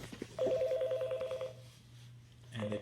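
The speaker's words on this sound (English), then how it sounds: "So I'm going to go ahead and place a call." An EMEET Bluetooth speakerphone places a call: a quick run of clear electronic dial tones and beeps over a low steady hum, followed by a brief tone burst at the end.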